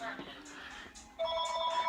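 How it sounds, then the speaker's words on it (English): A mobile phone rings with a steady electronic tone that starts partway through, with a person talking over and before it in a room. "My phone's ringing, so I'm gonna go ahead and grab that."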